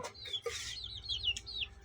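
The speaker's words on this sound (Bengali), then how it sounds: "এই যে আমার 4টা মুরগির বাচ্চা" Close, high-pitched peeping and soft clucking from four young chicks, several short calls in quick succession over a low background hum.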